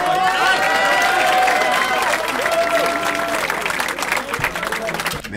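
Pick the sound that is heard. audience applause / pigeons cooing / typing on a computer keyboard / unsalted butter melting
audience applause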